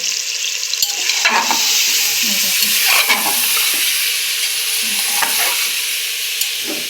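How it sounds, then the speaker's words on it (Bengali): Bay leaves and pieces of meat fry in a pan with a close, steady sizzle, while a spoon stirs them with repeated scraping strokes. No one speaks. "এই যে তেজপাতাগুলো দিয়ে দিচ্ছি দিয়ে এখন হচ্ছে নাড়া দিব"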